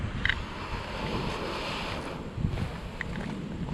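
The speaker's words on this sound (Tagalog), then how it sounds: "Naririnig ko yung alon" Ocean waves wash steadily at a tidal pool on the coast, a continuous broad roar mixed with wind buffeting the microphone, with a few faint knocks and no talking.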